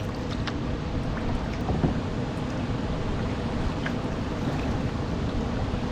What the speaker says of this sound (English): Pretty decent waterfall up ahead.